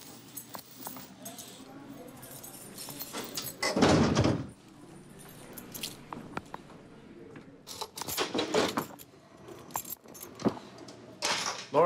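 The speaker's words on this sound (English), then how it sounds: "Just stay there until the door closes" A jail cell door slides and closes with a heavy burst of metallic clanking near the start, followed by keys jangling and softer clunks, while people talk nearby.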